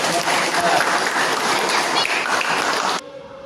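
A classroom audience applauds after a group presentation, a dense, loud wash of many hands clapping steadily for about three seconds before stopping abruptly into near silence.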